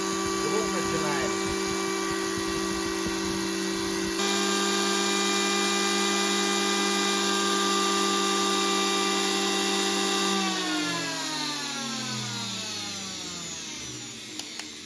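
An electric planer with a sparking fault runs with a steady high whine and strong tonal hum, then spins down with falling pitch near the end.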